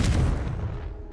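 A Confringo fire spell explodes in Hogwarts Legacy as a loud, close, booming blast that rumbles deep and heavy through the whole moment before fading slightly.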